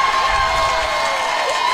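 Crowd at a Little League softball semifinal cheering and shouting, a steady broad roar of many voices with children's yells, continuous and fairly loud throughout.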